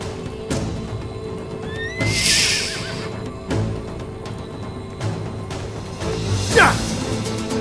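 A horse whinnies loudly twice in a historical drama scene with a castle siege, the shrill cries standing out against background music and sharp impact hits.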